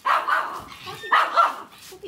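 Spotty, a pet dog, barks in sharp, close bursts, two clusters of yips and barks mixed with a human voice.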